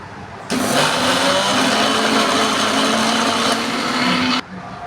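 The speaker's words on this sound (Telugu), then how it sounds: "మిక్సీ వేసి ఒక రౌండ్ వేసిన తర్వాత" A kitchen mixer grinder whirs loudly as it grinds fresh backyard henna leaves into paste, running steadily for about four seconds before cutting off, with no talking.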